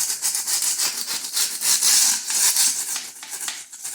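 A razor scraper scrapes ridges off cured floor leveling compound, giving steady close-up rasping strokes, bright and gritty, in a continuous run with slight surges and no talking.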